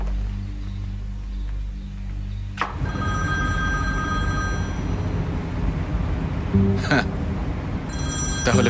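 A telephone rings in a dubbed Turkish drama scene: a loud, sustained electronic trill starts abruptly partway through, continues over a dense background, and flares again near the end.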